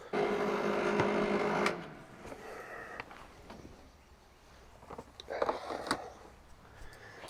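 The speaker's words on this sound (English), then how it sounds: "weld up the pieces for the Indispensable tool" A welder crackles and buzzes for about a second and a half while joining the pieces of a metal trammel tool for an Italian brick wood-fire build, followed by faint clicks and handling noises.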